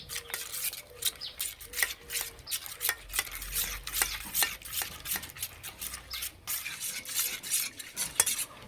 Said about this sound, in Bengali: দেব টক দই, ধনে গুঁড়ো, জিরে গুঁড়ো, লঙ্কার গুঁড়ো, হলুদ গুঁড়ো, ভালো করে মিশিয়ে নেব।